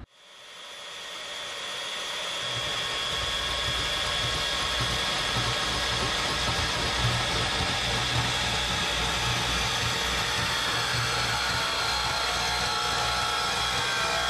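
A hot air intake pipe being cut to length with a power tool, giving a steady, continuous whirring hiss that holds at an even level throughout, with no speech.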